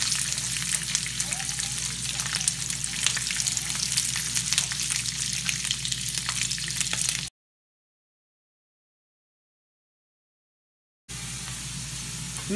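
Food deep-frying in hot oil for a Ramadan iftar spread, a steady dense crackle and hiss close by that runs for about seven seconds, cuts out to silence, then resumes near the end.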